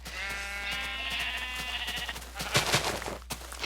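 Sheep in the Minecraft video game bleat in a drawn-out, wavering call, followed by a short burst of blocky game noises and clicks, with no speech.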